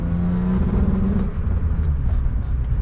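Stock 2-liter six-cylinder M52 engine in a BMW 320i E36 coupe with a manual gearbox, a steady low drone heard from inside the car during city driving, without speech.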